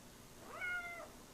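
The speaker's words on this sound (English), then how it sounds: "The cat!" A single short cat meow, rising then falling, faint and close against a quiet indoor background.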